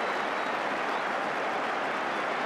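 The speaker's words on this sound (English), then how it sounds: "And listen to the applause." Applause from a football stadium crowd at Sheffield Wednesday v Everton as the half-time whistle blows, a broad, even wash of clapping held at one level with no pauses or voices standing out.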